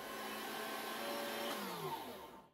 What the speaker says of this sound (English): Okay, guys, I'm going to grind it now.